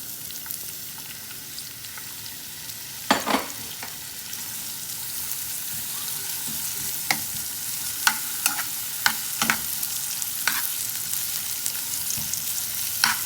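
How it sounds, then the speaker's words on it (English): Finely chopped onion slices fry in ghee in a frying pan for chicken biryani garnish, a soft steady sizzle broken by several sharp clicks and scrapes of a spatula against the pan. "in a frying pan add some butter, oil or ghee, whatever your choice is, and add some finely chopped onion slices."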